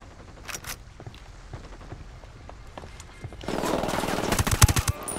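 Automatic gunfire in Ghost Recon Wildlands, a few scattered shots early on, then a dense rapid burst of firing swells louder in the final two seconds.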